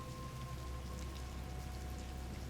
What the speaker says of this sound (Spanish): Un poco de lluvia